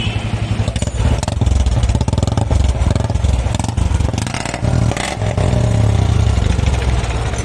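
A Royal Enfield Bullet 350 BS6 motorcycle engine runs loud and close, its deep pulsing thump rising and falling through repeated revs with a rattly mechanical edge, and no talking.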